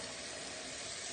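Water drips and trickles steadily off wet hands, a continuous broadband splashing patter heard close up with no voices.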